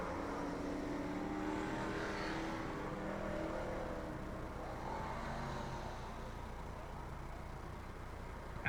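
Stock cars roar around an oval at Cornwall Motor Speedway, a steady, dense engine drone from several cars running side by side with no voices over it.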